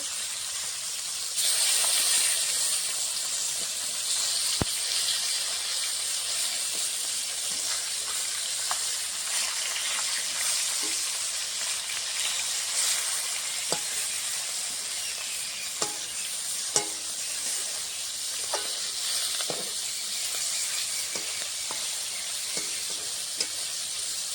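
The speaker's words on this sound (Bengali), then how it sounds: "মাছটা উঠিয়ে দেবো, সাইডে ভেজে নেব।" Rohu fish frying in oil in a pan, a steady close sizzle and hiss lasting throughout, with occasional soft clicks and taps from the pan.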